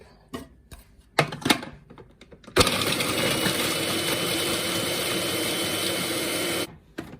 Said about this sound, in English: So I'm going to put the biscuits in a food processor.